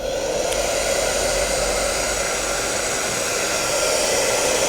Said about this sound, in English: Now I'm going to dry it with the cool air.